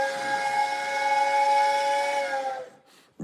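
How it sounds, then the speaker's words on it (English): A single long, loud blast of a steam train whistle, a sustained multi-tone hiss-edged chord lasting nearly three seconds before cutting off, with no talk. "That is a train, baby."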